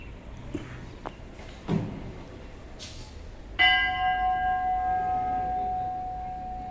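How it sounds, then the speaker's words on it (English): A school chapel bell strikes once after a few soft knocks and footsteps, its bright ringing tone then hanging and slowly fading for several seconds. "Here's the bell."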